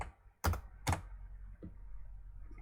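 Two crisp, quiet keystrokes on a computer keyboard enter a short command, followed by a fainter tap in a hushed room.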